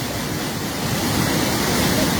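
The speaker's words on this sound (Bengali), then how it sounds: "জালালাবাদের বাঁধ ভেঙে প্রচণ্ড পানি ঢুকতেছে" Floodwater pours in through a broken embankment at Jalalabad in Habiganj after two days of heavy rain, making a loud, steady, unbroken roar of rushing water with no pauses.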